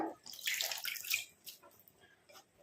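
Faint running water splashes as fresh leaves are rinsed under a tap, loudest at first and then trickling more softly.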